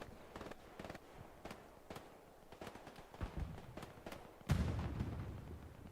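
Gunfire trades back and forth in a Hell Let Loose battle at the Remagen Ludendorff Bridge. Sharp shots crack at irregular intervals, mostly at mid distance, and a louder, closer blast near the end leaves a rumbling tail.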